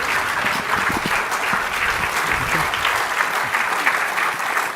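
A sustained, even round of audience clapping for guests at an IET President's Address fireside chat, busy and continuous throughout, with only faint traces of voices underneath.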